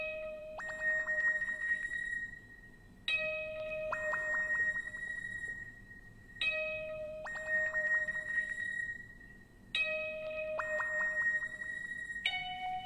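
A synth accent patch called Space Dragon from East West Opus Forbidden Planet leads plays a repeating four-hit phrase of bright, glassy tonal stabs with sweeping overtones, looping evenly and alone over a low rumbling bed.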